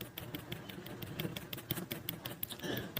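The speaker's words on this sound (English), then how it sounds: "the constant clicking and tapping you're hearing is her liking her own live stream, hoping it'll get out there to more people" Constant rapid clicking and tapping on a phone screen while liking a live stream, irregular sharp taps in quick bursts over a dull background, fairly close.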